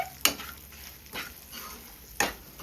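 A spoon stirs chilli powder and salt through dry shark fish pickle, giving three sharp scraping knocks against the vessel over a faint background hiss, close and fairly quiet.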